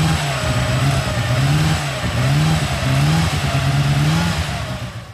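A vintage Bugatti racing engine revs in repeated rising and falling sweeps, about four close, loud blips in quick succession, with a rough mechanical drone between them and no voices.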